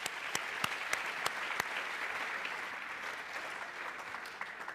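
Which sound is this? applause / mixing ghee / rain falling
applause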